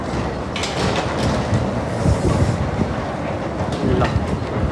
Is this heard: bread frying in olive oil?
no